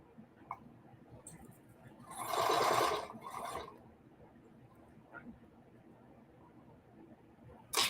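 Sewing machine stitching fabric postcards, run by a foot pedal: a brief whirring burst of stitching, then a second short run, separated by quiet clicks and handling noise.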